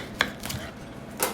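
A knife slices the bottom off a pineapple on a cutting board: two short, crisp cuts with a soft thunk between, close and fairly quiet, with no voices.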